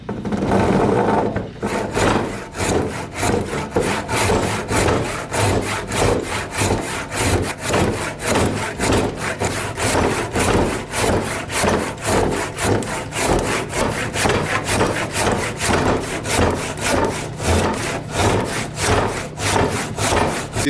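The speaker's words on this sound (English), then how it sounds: "I think I'm gonna rip cut this." Hand saw rip cutting a piece of wood held in a vise, loud close rhythmic back-and-forth rasping strokes repeating steadily for about twenty seconds.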